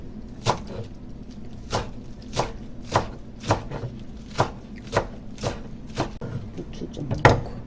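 A knife chops onion on a cutting board while preparing bean sprout rice, about a dozen sharp, close knocks falling in a fairly even rhythm roughly every half second.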